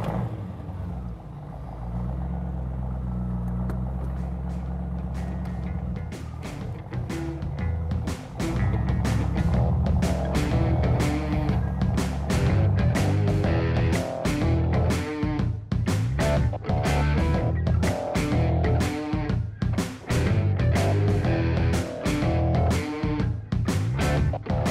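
A 1967 Mustang GTA convertible engine under way on a test drive, a steady low rumble climbing as it accelerates, with loud repeated clicks or knocks over the top for most of the ride.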